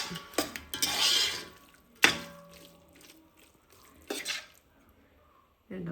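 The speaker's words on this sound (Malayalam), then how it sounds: "മസാല, മല്ലിച്ചപ്പ് നന്നായിട്ടൊന്ന് ഇളക്കി യോജിപ്പിക്കാം." Metal spoon stirring biryani masala and coriander leaves through rice in a pot, with several sharp scrapes and clinks against the metal between quiet pauses, close and fairly faint.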